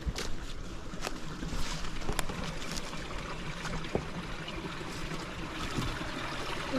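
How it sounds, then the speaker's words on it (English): Laurel Creek trickles and gurgles beneath a pile of rocks on an Appalachian Trail hike, a steady close broadband wash broken by occasional small splashes and clicks. "there's a stream underneath this pile of rocks, which is hard to walk on"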